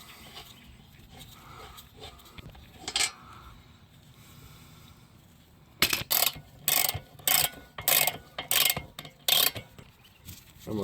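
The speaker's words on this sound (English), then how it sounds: "We'll go ahead and switch over to the ratchet here." A ratchet clicks away at a CV axle bolt on a 2014-2020 Nissan Rogue AWD in a close, loud series of sharp bursts that start after a stretch of quiet shop noise.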